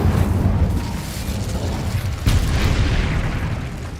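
A fiery spell cast in Hogwarts Legacy, a loud, dense booming burst with a sharp renewed surge partway through, sustained and rumbling for several seconds without talk.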